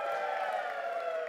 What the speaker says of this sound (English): the crowd is here cheering you on.